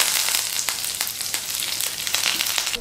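Mustard seeds, cumin and curry leaves crackle in hot oil, a loud, close sizzle with sharp repeated pops spread through the spitting hiss.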